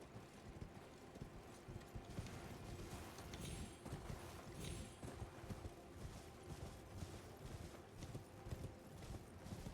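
Steady clip-clopping of a horse's hooves in a fantasy video game, continuous rhythmic footfalls at moderate level with a faint whinny and ambient game sound underneath.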